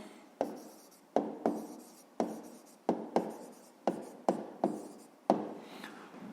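A pen writes down the answer to a fifth-grade maths exercise on paper, with about ten distinct strokes, each a sharp tap followed by a brief scratch. The strokes are close and steady, with no voice.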